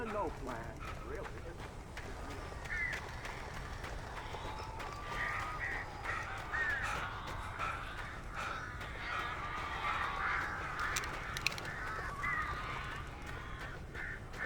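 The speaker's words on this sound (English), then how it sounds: "These birds are weird." Crows caw repeatedly in the middle distance over a constant ambient hum in the game Alan Wake Remastered, the calls scattered throughout with no clear rhythm.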